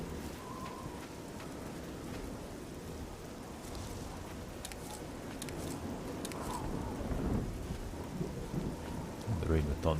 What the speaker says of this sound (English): The rain with thunderstorm loud.